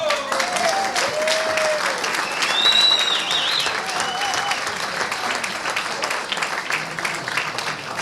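Applause from the audience at a climate alliance conference welcome dinner, a broad steady patter of clapping that fills the room for several seconds, with faint voices and a few whoops rising above it.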